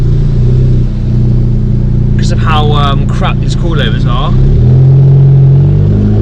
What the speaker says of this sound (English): every bump in the road will literally make my accelerator pedal judder, and it sends this car into like this, hesitating